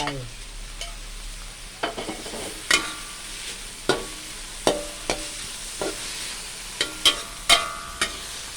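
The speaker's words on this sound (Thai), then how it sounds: "เอาใบกะเพราใส่ลงไป แล้วก็เอาไข่เค็มลงไป" Holy basil leaves and salted egg are stir-fried in a hot pan, with a spatula knocking and scraping in irregular sharp strikes over a low sizzle throughout.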